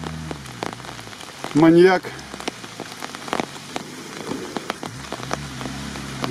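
Heavy rain pattering steadily on surfaces in a boggy forest during an off-road outing, with scattered drips and taps throughout and a brief loud spoken word partway in.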